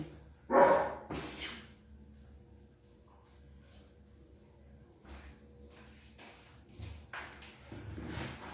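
A pet dog in a home gives two loud, sharp barks near the start, then falls quiet apart from faint room noise and a few soft rustles.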